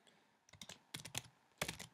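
Short bursts of computer keyboard typing as a command is entered, several quick clustered key clicks in three groups with pauses between, close and quiet, no voices.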